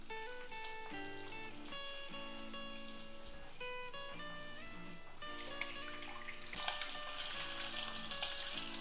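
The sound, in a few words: eggs frying in hot oil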